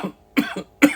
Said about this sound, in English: That's right, I'm coughing.